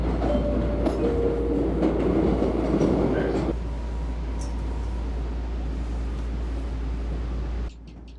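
An MBTA Blue Line subway train rolls slowly into Wonderland station, a steady low rumble of wheels and car noise with faint squeals, easing into a quieter hum before a sudden drop at the end.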